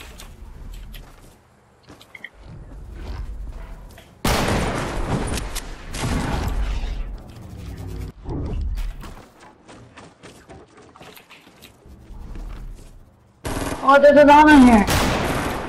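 Rapid gunfire in the building shooter game Playground, heard as a loud burst of shots, then quieter single shots between stretches of boys chatting, and a final loud flurry.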